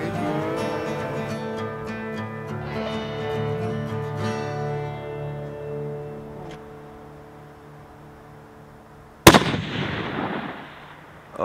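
A single loud, sharp hunting rifle shot cracks out near the end, fired at an antelope at long range in open Wyoming country, following a long sustained tonal hum with no talking.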